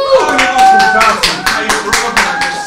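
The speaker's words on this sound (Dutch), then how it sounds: "Geef een groot applaus voor Jantal Schanser." A crowd at a holiday game event claps loudly in a rhythmic, pulsing pattern of distinct beats, with a faint tonal backing underneath.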